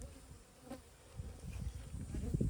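Honey bees buzz around an open hive in a soft, close swarm drone that thickens toward the end, with no talking.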